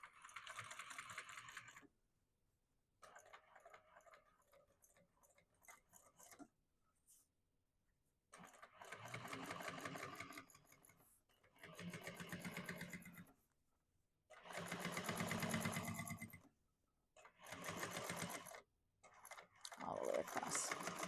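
A sewing machine fitted with a zipper foot stitches across a bag seam in several steady bursts of rapid mechanical whirring, separated by short pauses. It is close and fairly quiet.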